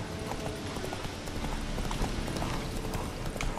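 Horse hooves trotting in the video game The Witcher 3, a steady clip-clop rhythm that is loud and continuous throughout.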